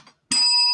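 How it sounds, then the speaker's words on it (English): A single bright bell ring rises sharply after a brief pause and hangs on, its ringing tone sustained and fairly loud to the end. "It's the German bell."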